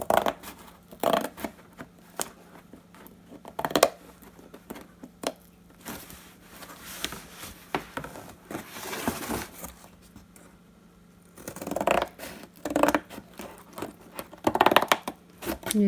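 A cardboard box cut along its natural fold for a DIY Rocky Horror TV monitor decoration, heard as scattered close snips and scraping bursts with quiet pauses between them.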